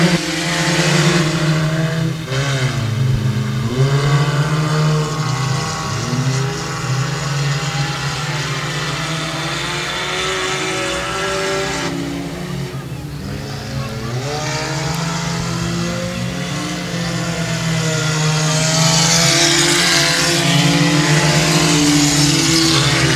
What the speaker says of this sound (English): So three cars ready to go 10 laps of distance for tonight's four-cylinder front-wheel drive main event.